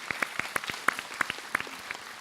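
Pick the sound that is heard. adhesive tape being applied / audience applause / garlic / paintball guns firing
audience applause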